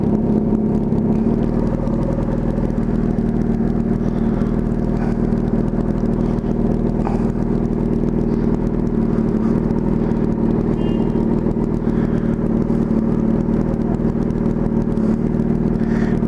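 Suzuki B-King motorcycle riding home through city traffic, a steady loud engine rumble with road noise and surrounding vehicles throughout, no speech.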